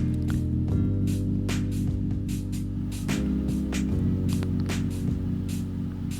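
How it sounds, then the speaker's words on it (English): Sodium bicarbonate poured into a large bowl for homemade bath bombs, a continuous gritty rushing with repeated soft crackling bursts and shifts as the powder tumbles, close and steady throughout. "I'm just pouring all the sodium bicarbonate in there"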